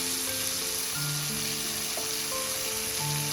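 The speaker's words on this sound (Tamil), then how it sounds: "இப்போ தக்காளி வதங்கிடுச்சு." Three large tomatoes frying in a pan for South Indian tomato chutney, giving a steady close sizzle with faint stirring clicks and no talking.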